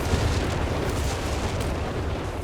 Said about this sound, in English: that's a walking Stuka